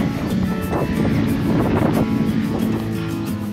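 Strong wind buffets the microphone on the open, exposed Marker Wadden island, a continuous loud roar and rumble with gusty fluctuations and no voices.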